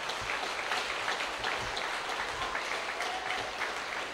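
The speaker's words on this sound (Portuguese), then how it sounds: "Palmas para Jesus." A church congregation applauds together, a steady wash of many hands clapping at a moderate distance, fairly quiet and even throughout with no voices over it.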